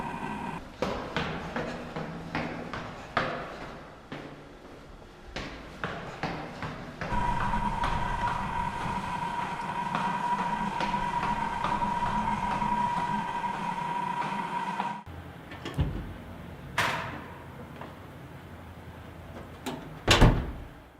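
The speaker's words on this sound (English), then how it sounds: "this is GoPro 5 audio on the Freevision gimbal while the gimbal is in performance mode" Motor noise from a Freevision VILTA G gimbal in performance mode, picked up by a GoPro 5's microphone: a steady whine with a faint tone, broken by clunks and handling knocks, then a quieter stretch with scattered bumps.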